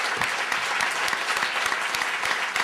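An audience claps steadily at the end of a talk by Slavoj Zizek, dense sustained applause from a hall with distinct sharp claps, no voices.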